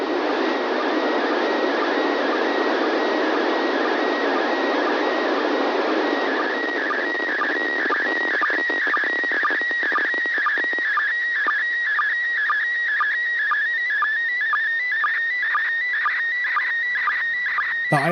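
ISS picture transmission picked up on a ham radio: a steady hissing, warbling data tone that shifts into a rapid pulsing, chirping pattern, loud and continuous for the whole stretch, with no voices.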